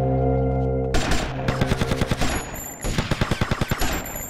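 Rapid automatic gunfire in GTA Vice City, with bursts of loud, evenly spaced shots that break off briefly and then resume over a steady game background hum.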